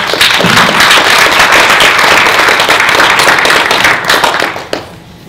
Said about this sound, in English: Can we have a round of applause for you?